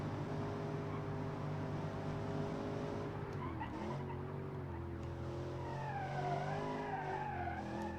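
A car in the BeamNG driving game slides through a turn with no throttle, its steady engine drone shifting pitch as tire squeal rises and wavers in the second half, with no talking.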